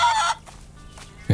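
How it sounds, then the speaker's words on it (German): Chickens make short clucking calls, one burst at the start and another at the end, with quieter sounds between them. The setting appears to be a barn or farm scene from the game Barn Finders. "Wir haben 2 Hühner."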